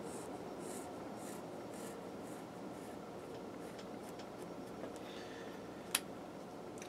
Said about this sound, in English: I'm going to draw my half circle.